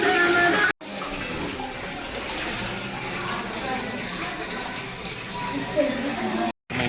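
Water flows steadily at Chittorgarh fort in Rajasthan, a continuous rushing wash heard fairly close, with brief dropouts and faint voices in the background.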